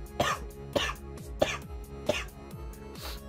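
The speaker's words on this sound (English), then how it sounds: "I need a cough." Several sharp coughs in a Pokemon X and Y battle, five bursts evenly spaced over about three seconds, moderately loud over a steady game-music bed.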